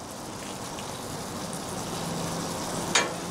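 Onions frying on a Blackstone griddle, a faint steady hiss with a brief sharp scrape or tap near the end, close and without talk.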